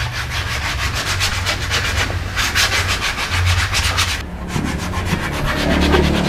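Sanding of a burnt wooden craft piece in an outdoor village workshop, a steady rhythmic rasping of repeated back-and-forth strokes, close and loud, with a brief pause near the end before resuming.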